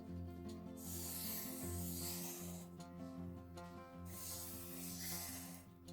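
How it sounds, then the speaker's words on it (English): A pen scratches freehand circles onto paper for a Zentangle doodle background, making two long, continuous rubbing passes over steady background music. "One of the other methods that I like to use is to just draw some random circles on the page."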